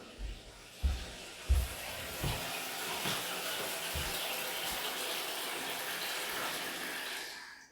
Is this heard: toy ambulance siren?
no